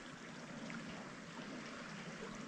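A shallow forest stream, running low with less water than before, flows with a steady, faint, even rush of water and no other sounds.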